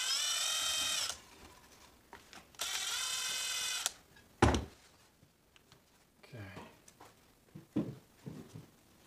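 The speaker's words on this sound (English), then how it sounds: "I got to use a power tool to get these out." Power drill whirring in two sustained bursts while removing parts from a Redcat Racing Everest 10 Gen 7 RC crawler, followed by scattered clicks, clunks and handling noises at close range.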